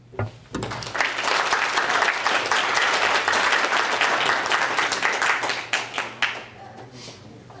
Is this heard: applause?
yes